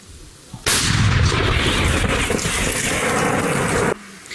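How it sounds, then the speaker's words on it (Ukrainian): One loud artillery gun firing close by, its booming roar lasting over three seconds before ending sharply. "Постріл!"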